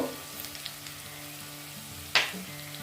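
Onions frying in a pan for doi katla, a low, steady sizzle that runs throughout, close by, with one brief sharper crackle or clink near the end and no talking.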